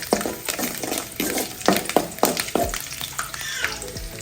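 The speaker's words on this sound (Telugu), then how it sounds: "దాని తర్వాత వెల్లుల్లిపాయ వేసుకుంటున్నాం. కొంచెం ఫ్రై అవ్వాలి." Garlic frying in a little hot oil, a steady crackling sizzle broken by repeated stirring scrapes of a spatula against the pan, close and fairly quiet.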